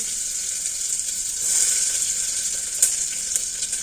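Onions sizzle in a pan of oil while dal is being cooked, a steady bright hiss throughout with a few faint clinks near the end.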